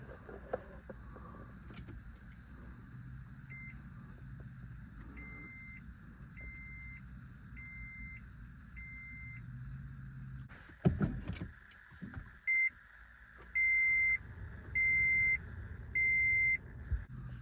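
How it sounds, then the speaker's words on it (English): A 2010 Toyota Prius II switched on with its dash power button: a steady electronic tone sounds in short, evenly spaced beeps over a low cabin hum, with a brief burst of clunks and rustle midway, then the beeps resume louder. "locate this power button here in the dash, and press it to fire up the car"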